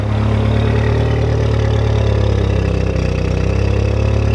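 An 1987 Volkswagen Jetta Mk2 engine idles with a steady, rough low rumble and slight chop, holding close and loud with only faint rises in revs.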